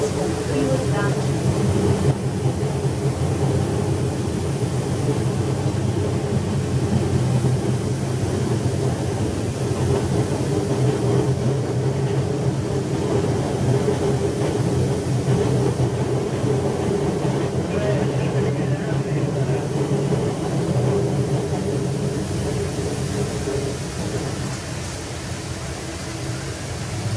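Inside a CAF Série 1000 CBTU commuter train running along the line, a steady low rumble and broadband rolling noise continue without break, fading slightly toward the end.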